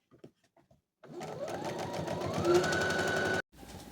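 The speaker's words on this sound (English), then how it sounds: "I'm going to zigzag over that" A sewing machine zigzag-stitches the underarm seam of a sleeve on a thrifted-sheet house dress, starting after a few faint taps and running steadily and close for over two seconds with rising speed before stopping abruptly.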